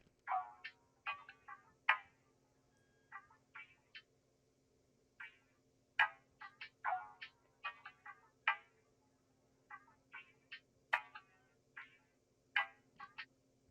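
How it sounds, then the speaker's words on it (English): A percussion loop from a one-shot kit ticks and clicks in quick, syncopated bursts of short dry hits, repeating in a steady groove over a faint low hum, with no voices. "the next sound is this percussion loop,"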